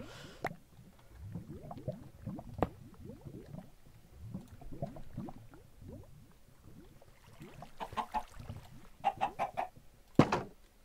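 Chickens cluck repeatedly in the Minecraft video game, a steady run of short, moderately loud clucks over a low ambient bed, with a sharper burst of calls near the end.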